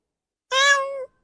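A cat lets out a single clear, drawn-out meow lasting about half a second, close and fairly loud, with silence on either side.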